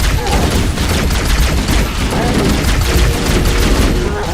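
Dense, continuous gunfire from Halo: Combat Evolved Anniversary, rapid overlapping shots and booming impacts filling the whole stretch at loud, steady volume with battle chatter mixed in.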